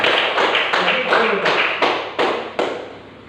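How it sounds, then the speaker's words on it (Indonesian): A school class claps together in a steady rhythm of sharp, loud beats about three per second, close and filling the room, while a voice talks over it. "Tepuk tangan buat semuanya."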